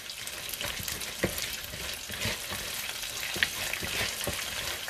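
Matchstick potatoes are stirred through wet pakora batter in a bowl, a close, squelchy, irregular mixing with soft thuds and scrapes at uneven intervals, and no one talking.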